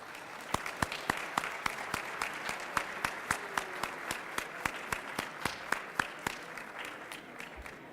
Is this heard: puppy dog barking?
no